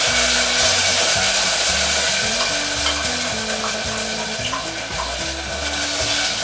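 Ketchup fries with ginger in a pan, giving a continuous close sizzle over a steady stepped tonal pattern that sounds like background music, with no speech.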